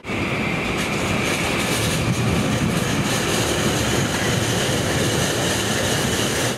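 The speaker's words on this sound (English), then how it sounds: "I really love trains. The look of them, the sound of them, everything." A train rolls steadily past close by, its loud continuous rumble and rattle of railcars holding an even level throughout with no voices over it.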